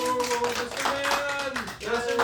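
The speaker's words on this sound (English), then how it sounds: "Can we get an audience applause?" A small audience claps at the end of an interview, brief scattered applause mixed with voices and a steady tonal hum.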